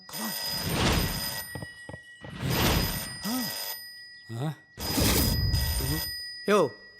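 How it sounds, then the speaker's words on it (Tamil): A telephone rings in short repeated bursts amid a busy comedy scene, with people talking loudly between and over the rings. "ஃபோன் அடியா."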